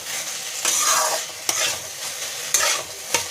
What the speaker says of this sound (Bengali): শাক হচ্ছে, একটু রসুন সম্বাস দিয়েছি।